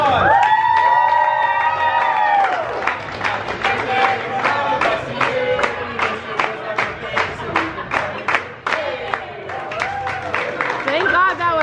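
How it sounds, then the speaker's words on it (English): Crowd clapping and cheering after a call for applause, rapid hand claps and whoops building over a few seconds alongside shouting voices and talk. "Can I get a round of applause?"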